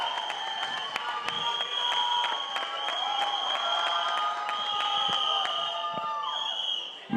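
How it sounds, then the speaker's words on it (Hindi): Audience applause and cheering at the grand trailer launch of Singham Again, steady clapping from a crowd with bright whistles and scattered shouts, sustained and moderately loud. "एक बार जोरदार तालियां."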